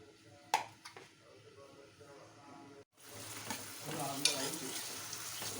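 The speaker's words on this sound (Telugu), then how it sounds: "ఆనియన్స్ని ఫ్రై చేసుకో." Chopped onions with green chillies hit hot oil and cumin in a home kitchen pan for a potato and mixed sprouts curry, a brief clatter and then a steady, close sizzle with light stirring scrapes.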